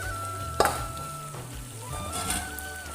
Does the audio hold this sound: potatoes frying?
yes